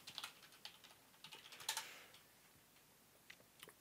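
Someone types a password on a computer keyboard: a quick, soft run of irregular key clicks over a few seconds, fairly close and quiet, with no speech.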